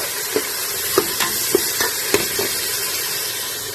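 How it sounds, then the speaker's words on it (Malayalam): Onions frying in a pan for an Arabic camel meat masala, a constant loud sizzle and hiss broken by several soft scraping stirs, with no talking. "അപ്പൊ അതെല്ലാം കൂടി നമുക്ക് ഉള്ളിയൊക്കെ ഒന്ന് ഫ്രൈ ആക്കി നല്ലോണം ഒന്ന് ഫ്രൈ ആക്കി എടുത്താൽ മതി"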